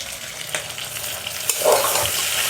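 A spoon stirs long-cut tomatoes and curry leaves frying in a pan for hotel-style kushka rice, giving a steady close sizzle with scraping strokes that swell near the end.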